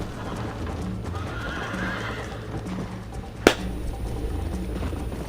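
A horse gallops with continuous rapid hoofbeats and whinnies in Red Dead Redemption 2, loud and close, with one sharp snap-like click partway through and no speech.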